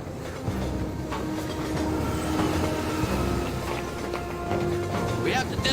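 A runaway train in a Godzilla video game rumbles and clatters continuously along the rails, with wheel screeches and mechanical noise over the whole stretch and game voices mixed in.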